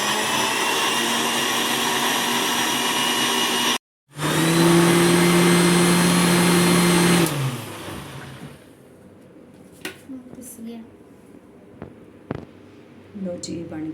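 A mixer grinder running chutney on inverter power, a loud steady motor whine that cuts out briefly, surges back with a strong droning hum, then winds down to quiet kitchen clatter and a few clicks.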